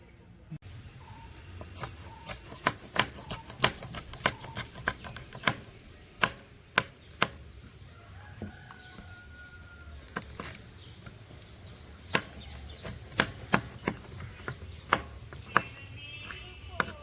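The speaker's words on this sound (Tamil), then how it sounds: "நாங்கள் வெங்காயம் பட்ட போகிறோம்" Onions chopped with a knife on a board for a Sri Lankan-style bread kottu, giving a steady series of sharp, close taps in uneven bursts over a quiet kitchen background, with no talking.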